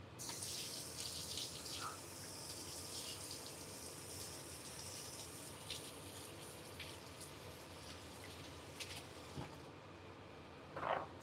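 Tap water runs steadily into a kitchen sink during hand washing, a continuous broadband rush that fills the whole clip with a few small clatters near the end.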